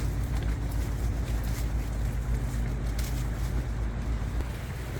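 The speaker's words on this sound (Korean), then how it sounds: "와 바람 엄청나 정말" Strong wind at night buffets a tent, making a dense, constant low roar and rumble with flapping gusts that stay loud the whole time, and no voices.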